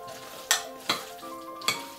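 Quinoa tabbouleh with spring onions being mixed in a bowl, with three distinct clinks of a utensil against the bowl over a soft, steady background and no talking.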